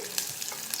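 Onions gently frying in a pan, a continuous low sizzle broken by a few quick stirring scrapes and taps, close and quiet, no voices.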